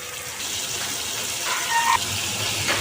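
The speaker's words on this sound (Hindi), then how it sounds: "अब मैं इसमें थोड़ा सा पानी डाल के इसको ढक के रख दूँगी ताकि हमारे आलू जो हैं वो गल जाएं।" Water is poured into a pan of spiced potatoes frying on a home stove, a short gushing splash that swells midway and then eases, close and clear with no talk.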